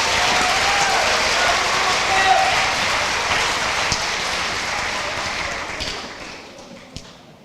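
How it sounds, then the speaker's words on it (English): An audience at an 8th grade graduation ceremony gives a round of applause, a dense wash of clapping that tapers off and fades out near the end, with a few isolated claps left over. "A round of applause for Mrs. Sen's class."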